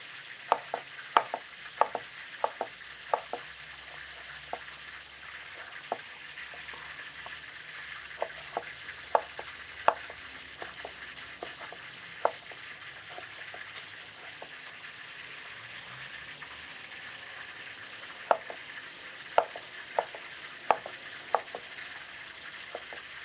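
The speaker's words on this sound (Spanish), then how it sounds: "Bueno, voy a echar estas otras para que se vayan dorando también. Mientras se doran las mojarras," Mojarra fish fry in hot oil with a steady, close sizzle, punctuated by frequent small pops and crackles throughout, with no voices.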